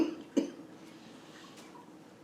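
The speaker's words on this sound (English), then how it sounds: "I'm an ex-smoker, so I actually cough a lot anyway" A single near cough from a man who is an ex-smoker with a lingering cough, short and sharp, followed by a quieter second cough a moment later, then a faint third near the end.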